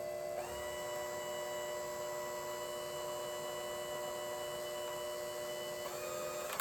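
A hand mixer's beaters whip grain-free frosting for dog cupcakes, a steady electric whine that changes pitch near the start and again near the end, held at moderate speed with no talking.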